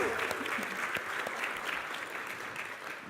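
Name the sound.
congregation applause for confirmation class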